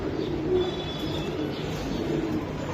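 Pigeons coo faintly now and then against a steady, busy background hum.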